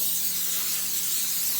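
Coconut cooking spray hisses into a pan before fish is steamed, a steady close spray lasting the whole moment, alone with no voices.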